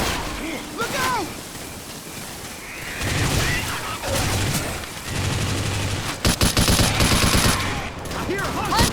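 Rapid bursts of gunfire from the zombie shooter game Left 4 Dead 2 are heard on a server with infinite ammo, loud and near, with repeated volleys and sharp shots, under shouting voices from the game's characters.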